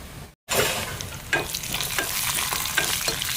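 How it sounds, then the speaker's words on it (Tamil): Cashews and raisins frying in hot ghee for payasam, giving a steady close crackling sizzle with stirring scrapes and small bursts, briefly cut off near the start, with no speech. "நெய் சூடாயிட்டு காஜு பிளம்ஸை சேர்க்குறேன்."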